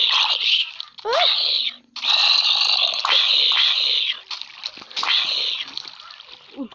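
Water splashes and sloshes in several loud bursts with short gaps between them, close to the listener, along with some crunching sounds.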